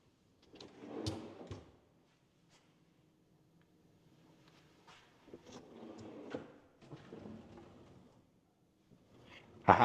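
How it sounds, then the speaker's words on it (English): Kitchen drawers in a modern farmhouse slide open and shut in several separate bursts, with soft rolling and thuds between quiet gaps, close by. "I have to open up some of these drawers for you"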